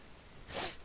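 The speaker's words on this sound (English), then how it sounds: "But I had to sneeze." A single sharp human sneeze bursts out close and loud after a quiet moment.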